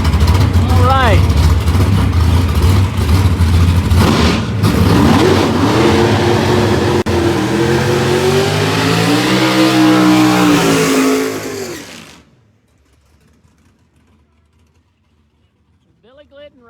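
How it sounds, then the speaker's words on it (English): A Ford Mustang race car at an NMCA test session at Summit Motorsports Park roars loudly down the drag strip, engine revving hard and rising for about twelve seconds before cutting off abruptly into near silence. "Billy Glidden right here, shaking down this Ford Mustang"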